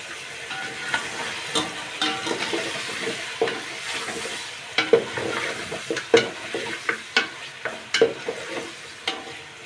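Whole spices crackle and sizzle in hot oil over a gas flame for mutton pulao, with repeated sharp stirring clacks of a spoon against the pot, close and busy, no voices.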